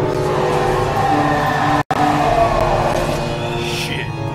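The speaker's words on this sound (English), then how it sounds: "There's a truck coming for us" A vehicle rumbles in the Left 4 Dead 2 video game, with a steady loud engine drone that holds throughout, broken by one instant of silence midway, alongside faint high tonal game sounds.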